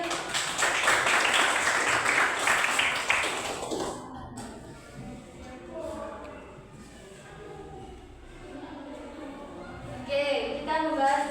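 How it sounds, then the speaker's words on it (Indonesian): Classmates clap for a student in a classroom, a dense burst of applause lasting a few seconds that then dies away into quieter room sound with voices. "Oke, tepuk tangan buat Iim"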